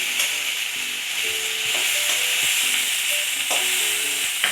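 Ginger paste hits hot oil in a pan of rohu fish kalia, giving a steady, close sizzle with occasional light stirring clinks throughout.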